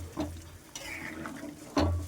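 A spoon stirs spices and water in a cooking pan, giving a few soft scraping strokes with light sizzling underneath, quiet and close, with no talking.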